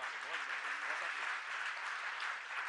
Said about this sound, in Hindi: तालियां बजाने से कुछ नहीं होगा भाइयों,